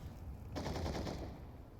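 A quick burst of automatic gunfire in the CS:GO video game on the Inferno map, set in a professional esports match, short and close with a rattling volley that fades after about a second.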